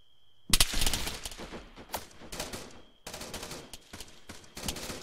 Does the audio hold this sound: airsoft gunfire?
yes